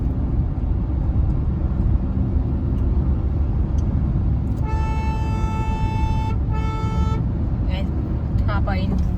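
On a highway in Meerut, a car horn gives two longer honks followed by a few quick short toots, all over constant road and engine noise from a moving vehicle, with a voice talking along the way.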